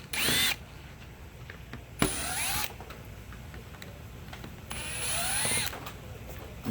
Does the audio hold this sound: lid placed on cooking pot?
no